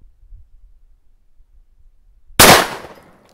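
A shotgun fires a single 185-grain slug pushed by about 44 grains of Winchester 748 powder, one sharp loud blast that breaks a near-silent pause and rings off briefly.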